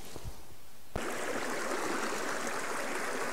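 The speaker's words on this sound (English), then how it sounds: "Okay, let's go down to the creek." A mountain creek on rural land flows in a constant close rush of water, starting after a brief quiet moment with a few soft thumps.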